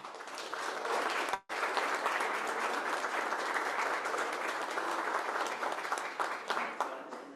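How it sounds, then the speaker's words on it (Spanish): An audience applauds at an official ceremony in Mexico City, steady, fairly close clapping that breaks off for an instant and then resumes and continues evenly. "Les brindamos un fuerte aplauso."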